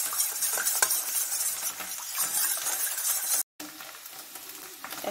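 Yogurt and water whisked together in a bowl for kadhi, a steady scraping stir with light clinks of a spoon against the dish, close and continuous with one brief gap.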